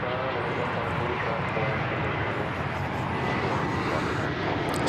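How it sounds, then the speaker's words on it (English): Spirit Airlines jet arriving at DFW Airport from Las Vegas, a loud, close, continuous engine rumble and whine filling the moment, with talk faintly beneath. "Spirit Flight 2920 is arriving from Las Vegas."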